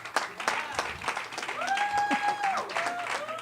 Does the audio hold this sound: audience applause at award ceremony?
yes